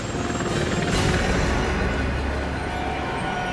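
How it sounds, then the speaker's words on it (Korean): A military helicopter roars in during a helicopter landing operation in an animated science program about an Aegis destroyer. The rotor noise is a steady, dense whir with a rough rumble, close and loud throughout. "헬기 상륙작전 실시!"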